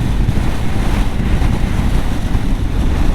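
Strong wind buffets the microphone on a high mountain road, a loud continuous low rumble with gusting surges throughout and no talk.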